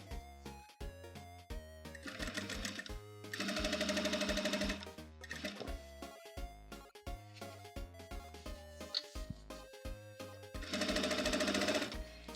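A sewing machine stitching a jeans hem, running in loud rapid bursts of a few seconds each with short pauses and stop-start clatter between them, close and alone with no talk.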